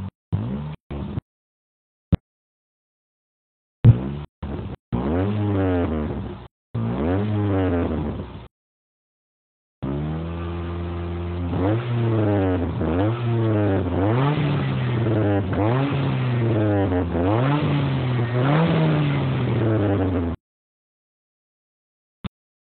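A Ford Focus 1.6 16v with a custom-built exhaust revs in several loud, close bursts, its pitch climbing and falling repeatedly, separated by short silences.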